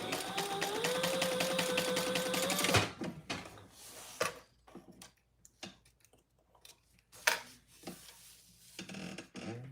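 A sewing machine stitches a scant seam along the sides of a lightweight waterproof canvas trifold wallet, running steadily for about three seconds up close, followed by scattered handling taps and rustles.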